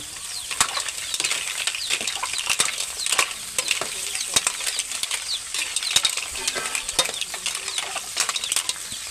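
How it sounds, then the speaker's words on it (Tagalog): Mussels and squid stirred in butter and oil in a pan, with a steady close sizzle and repeated sharp scraping clicks of a utensil against the pan in an uneven rhythm, no talking. "Halo-haloin lang natin. Tapos lagyan pa natin ng konting mantika para maluto na."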